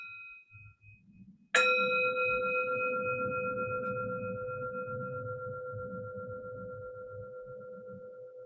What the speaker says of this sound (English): the sound of the bell